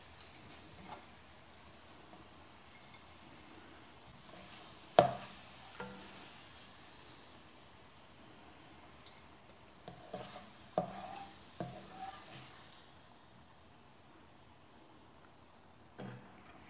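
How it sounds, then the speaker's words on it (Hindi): Sliced onions frying in ghee until golden brown for restaurant-style chicken biryani, with a soft continuous sizzle and occasional scraping stirs and clinks, fairly quiet throughout. "और इसे गोल्डन ब्राउन होने तक फ्राई करेंगे।"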